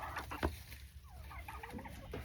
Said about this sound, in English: Does anybody know what kind of chicken that is?